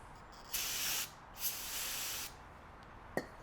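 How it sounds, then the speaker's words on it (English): Two hissing bursts of brake cleaner sprayed from an aerosol can onto a spark plug from a 1975 Chevy Monza, one short and one longer, followed by a single faint click. "Spray her off with some Blake cleaner."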